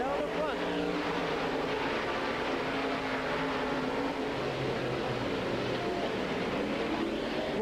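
Late model race cars roar around a speedway in a dense continuous engine drone, loud and steady throughout, with an announcer talking over it.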